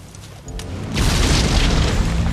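A land mine detonates in a war film, a deep heavy boom that swells and then rumbles on, loud and close, with no talk over it.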